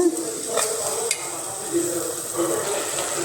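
Greens cooking in a pan are stirred with soft scraping against a low, steady simmering hiss, with a couple of brief clinks, close up and fairly quiet.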